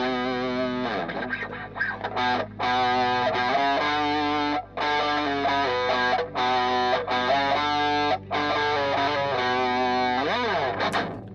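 An electric guitar played through a Wrecked Lo-Fi Drive distortion tone in Rocksmith+ rings out in gritty, heavily saturated chords and riffs, loud and continuous with a few brief gaps, with no talk over it.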